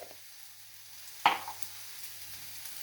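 Meatballs and cumin seeds sizzle in a stir-fry pan: a soft steady frying hiss with one sharp crackling burst midway, then quieter pops.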